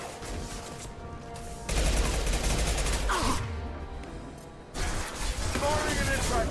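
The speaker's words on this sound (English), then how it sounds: "Firing an impact shot." Gunfire in Mass Effect 2 combat against charging krogan: loud sustained bursts of shots in two heavy stretches with a quieter gap between them, over battle noise and talk.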